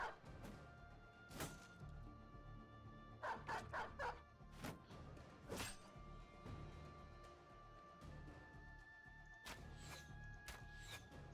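Dogs barking in the medieval strategy game Battle Brothers, several sharp barks scattered irregularly over a quiet battle background, with no talk.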